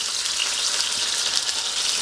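Chicken cutlets frying in a Tefal pan, a loud, steady, close sizzle and crackle of hot oil with no pauses and no talking.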